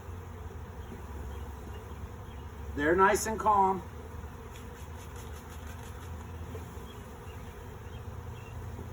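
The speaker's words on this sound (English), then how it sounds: "All these bees flying around" Honey bees buzz in a steady, faint drone around a hive, with a brief louder swell as a few fly close past, while a person talks calmly nearby.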